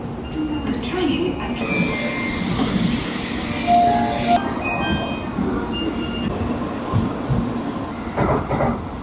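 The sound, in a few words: train running on rails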